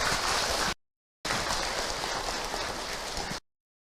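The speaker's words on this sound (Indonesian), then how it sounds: "Tepuk tangan untuk kita semua." An audience applauds in a dense, even burst of clapping, cut off briefly by a gap of silence, then returning loud and steady until it stops abruptly.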